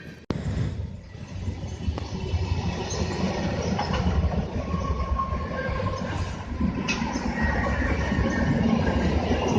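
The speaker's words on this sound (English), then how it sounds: "A Norfolk Southern train with a Union Pacific SD70 Ace in the mix" A Norfolk Southern freight train with a Union Pacific SD70 Ace locomotive in its consist rolls past close by, a loud, steady rumble of wheels and engines that holds for the whole stretch.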